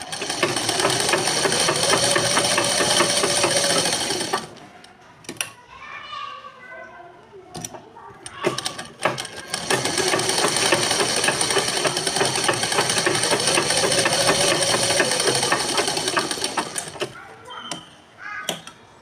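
Sewing machine stitching a blouse katori, a fast steady whirring run that stops near five seconds and resumes for a long stretch before tapering off, close up, with occasional crows cawing in the background.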